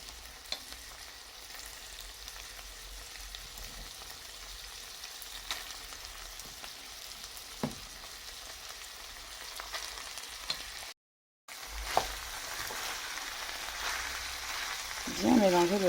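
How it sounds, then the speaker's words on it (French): Cooked rice with minced meat and sweet corn is stirred in a pan, a steady sizzle with soft scraping that rises into louder scraping strokes toward the end. "Bien mélanger le tout pour tout incorporer."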